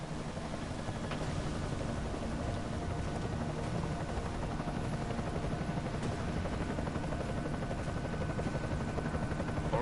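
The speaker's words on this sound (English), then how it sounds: "Enemy helo sighted." Enemy helicopter in the video game Deus Ex: Mankind Divided, a steady, close rotor drone with dense chopping texture that holds unbroken and loud throughout.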